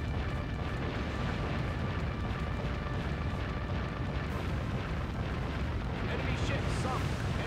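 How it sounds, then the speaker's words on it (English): Huge warship guns firing in Warship Gunner 2, a continuous rumbling barrage of heavy booms and distant explosions blending into a dense roar, with a voice talking over it. "with these super big guns, I can kill these guys from all the way over here"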